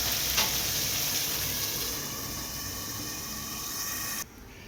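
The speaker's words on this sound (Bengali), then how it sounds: "আমি এখন ঢাকনা দিয়ে কিছু সময়ের জন্য এটা ঢেকে রাখবো টমেটোটা সিদ্ধ করার জন্য।" Tomatoes simmering under a lid in a pan, a steady close sizzle with faint bubbling that eases slightly before cutting off abruptly, no one speaking.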